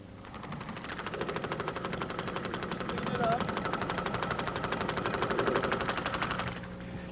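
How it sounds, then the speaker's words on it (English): A 4-cylinder engine runs steadily with a rapid, even pulsing drone that swells slightly and eases off toward the end, close and continuous. "That's a 4-cylinder engine right there"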